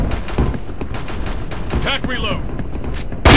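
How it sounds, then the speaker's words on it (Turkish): Automatic gunfire rattles in rapid bursts throughout a PC shooter game round, dense repeated shots with a sharp louder blast at the very end. "Adam taramalıyla vurdu ya."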